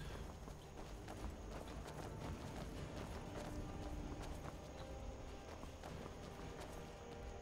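Horse hooves galloping in the video game Skyrim, a fast, dense clatter of hoofbeats under a constant, noisy game soundscape, loud and steady for the whole stretch.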